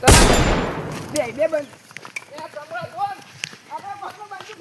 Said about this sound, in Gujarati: બંદૂક નો અવાજ આવ્યો